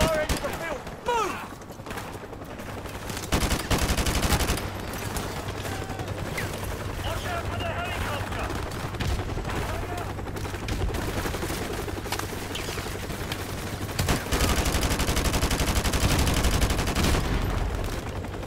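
Rapid gunfire from the video game Modern Warfare, with dense bursts of shots almost throughout, loudest near the start and again toward the end, mixed with voices talking over the battle.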